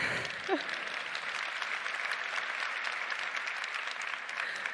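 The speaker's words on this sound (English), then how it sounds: "Yeah, you can clap for that." A crowd applauds steadily at the Oculus Connect 6 conference, a dense wash of clapping that holds at even loudness for several seconds, with a brief voice at the start.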